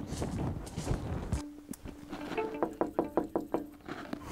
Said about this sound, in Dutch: ik heb net keihard op het raam staan bonken.